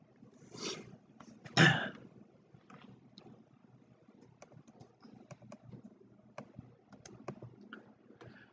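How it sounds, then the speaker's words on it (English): Typing on a computer keyboard, with faint, scattered key clicks close by and a louder burst of cough-like noise near the start, otherwise quiet and sparse. "I keep typing Y."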